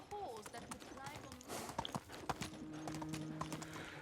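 Horse hooves clip-clop in a steady rhythm as a horse is ridden in the medieval farming video game Medieval Dynasty, with a voice talking over them.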